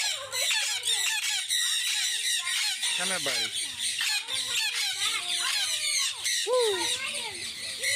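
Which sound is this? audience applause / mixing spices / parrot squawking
parrot squawking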